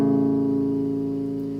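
A bass guitar rings a major chord, root with the third on the top string, a single warm low dyad that sustains and slowly decays, close and alone.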